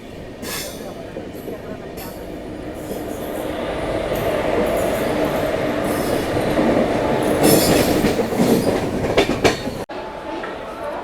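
The 12534 Pushpak Express rolls along the line with a loud, continuous rumble of wheels and carriages, a rhythmic clatter and occasional squeals heard from on board. People talk at times over the noise.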